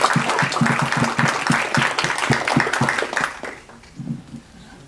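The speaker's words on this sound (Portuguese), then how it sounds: "queria que vocês se juntassem a mim para, mais uma vez, dar uma salva de palmas para a Gladys" An audience at a SUG Curitiba event in 2014 claps together in steady applause for about three and a half seconds, then it thins out to a few scattered claps.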